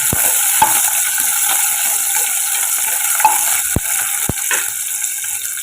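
Chillies sautéing in the pan of a pressure cooker, a close hiss of frying broken by a few sharp metallic clicks and scrapes from stirring, steady throughout with no voices.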